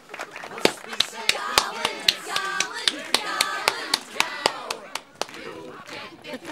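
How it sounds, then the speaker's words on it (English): Irregular hand claps at a wedding celebration as the garland is caught, sharp and fairly close, repeating over chatter and a bustle of voices. "See this funny clapping?"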